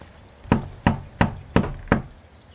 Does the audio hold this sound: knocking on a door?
yes